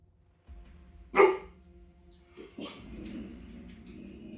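A puppy gives one short, sharp yip-like bark up close, followed by quieter whimpering sounds over a low background hum.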